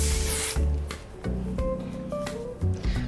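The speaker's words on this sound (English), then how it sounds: "I always feel like I'm spraying hairspray on my face." A fine aerosol spray of makeup setting spray hisses in short bursts close by, with soft rubbing and handling noises between sprays.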